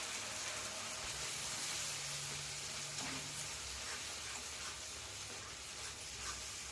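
Fish curry with turmeric and chili powder bubbling and simmering in a pot, a steady, close sizzling hiss with no voices over it.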